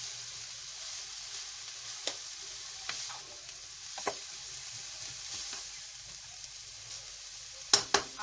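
Chinese samosa filling being stirred in a hot pan, a quiet steady sizzle with soft scraping and occasional sharp clicks of a spoon against the pan, with a couple of louder taps near the end.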